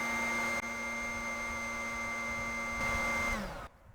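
A Ryobi cordless leaf blower on a 2 amp hour HP battery runs loud and steady with a high whining tone, then winds down and cuts off near the end.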